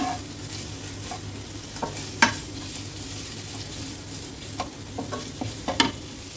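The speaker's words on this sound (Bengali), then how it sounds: "আমি কুচানো পেঁয়াজগুলো দিয়ে দেব। একটু লাল লাল করে ভেজে নেব।" Chopped onions frying in hot ghee in a pan for prawn moilee, a steady close sizzle with occasional scrape and stir clicks scattered through.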